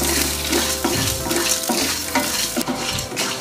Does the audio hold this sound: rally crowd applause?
no